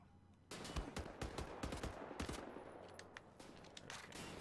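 Enemy gunfire rattles in Wolfenstein: The New Order in sharp repeated bursts and single shots that start abruptly and continue over a steady background, fairly quiet overall, with no voices.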